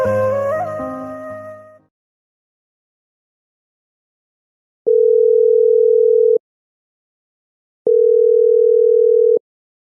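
A recorded voice on a phone line says the number is busy, then after a short silence two long, loud, steady busy-signal beeps sound, evenly spaced and alone.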